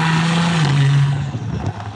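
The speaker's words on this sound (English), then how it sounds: "Even removing the stock muffler definitely opened up a little bit more turbo noise." An SUV with an aftermarket exhaust and the stock muffler removed revs with a throaty engine drone and a falling turbo tone, then settles into a rougher, uneven rumble close by.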